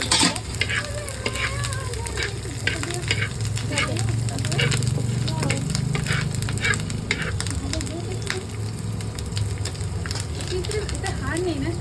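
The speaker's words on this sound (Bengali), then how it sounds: "এটা তো বন্ধুরা, এটা ভাজা হোক" Food sizzles and fries in a pan as a spoon scrapes and stirs it repeatedly, a dense crackling hiss with rhythmic clinks throughout, while someone talks over the cooking.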